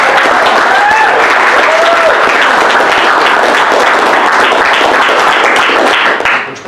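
An audience at the Valiant Summit 2017 gives a big round of applause, loud sustained clapping with a few cheers and whistles, holding strong throughout before tapering at the very end.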